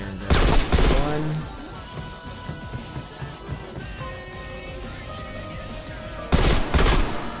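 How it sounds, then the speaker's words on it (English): Automatic gunfire bursts in Call of Duty Cold War Zombies as glowing orbs are shot, two loud clusters of rapid shots at the start and end with quieter game noise and clinks between. "Now we can shoot at the glowing orbs."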